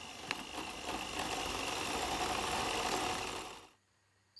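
An electric whisk beats egg yolks for tiramisu in a bowl over a bain-marie, a steady close motor whir that runs for several seconds and then cuts off.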